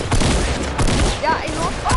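Rapid gunfire in a PS4 video game, dense bursts of shots filling the mix, loud and continuous, with people talking over it.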